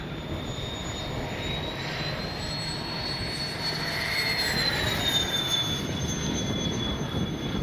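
A large FMS 70mm EDF A-10 Thunderbolt II RC model jet flies past with a steady, fairly quiet whine that holds and shifts in pitch as it passes, a continuous broadband rush with no talking.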